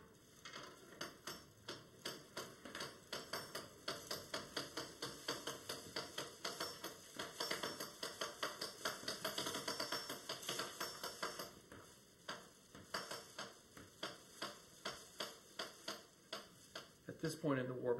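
The warp beam of a Harrisville rug loom is cranked in a fast run of regular clicking ratchet ticks, close and steady, pausing briefly before resuming, with people talking at times.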